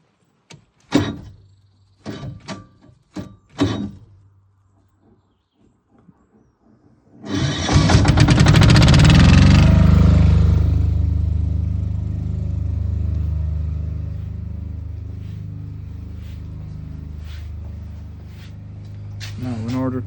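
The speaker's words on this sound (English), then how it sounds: "next step is to start the diesel generator and get that to synchronize with the system as well" A Stephill 6 kVA diesel generator cranks and catches, then settles into a loud, steady running drone that fills the background. A few sharp clicks and knocks come just before it starts.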